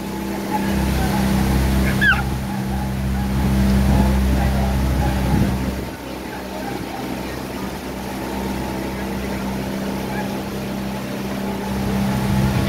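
Motorboat engine droning steadily as the boat passes on the water, with loud continuous low rumble throughout and faint voices calling out near the start.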